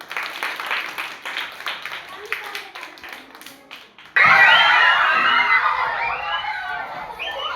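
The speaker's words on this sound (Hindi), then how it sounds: "ताली बजाइए।" Children in a classroom break into loud, sustained clapping that swells suddenly and carries on to the end, after a stretch of a teacher speaking with scattered taps.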